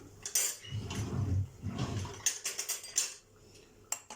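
A lid set over a pot of steeping green tea in a home kitchen, giving a few close clinks and scrapes of metal and crockery with soft handling noise between them, no talk.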